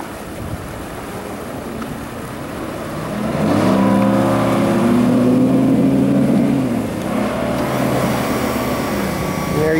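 A bow rider motorboat with a single 350 engine, 2008 275 Tournament, throttles up with a rising engine drone over wind and water rush, climbing after a few seconds and holding loud to the end.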